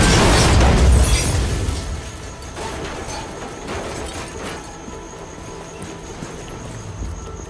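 A grappling hook charge pulse in the open-world action game Just Cause 4 sets off a loud explosion, a heavy boom up front that decays into a long rumbling, crackling tail.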